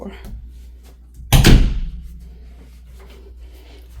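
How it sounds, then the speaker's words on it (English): A door is closed with a single solid thud in a home laundry area, a short loud impact that decays quickly amid quiet room sounds. "Close that door."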